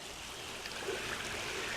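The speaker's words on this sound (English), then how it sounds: "You hear the water, that's pretty cool, huh?" Water of a small stream flows beneath a little footbridge in a steady, faint wash of trickling and rushing, heard alone without voices.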